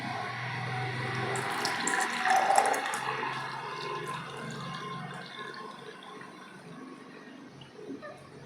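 A tap runs as water pours into a container for a filling game, a rushing gurgle that swells, then gradually eases and thins out toward the end, with no voices.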